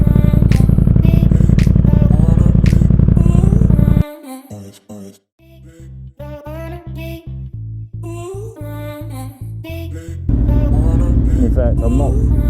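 A V4 sport motorcycle engine under way, droning loud and steady, then dipping briefly as a gear changes before pulling and climbing again, ending on a strong sustained roar.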